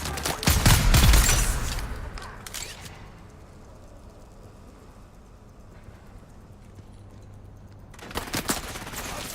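A burst of rapid gunfire rings out at the start in the Dune: Awakening video game, fading into a quiet hum, then more shots crackle near the end.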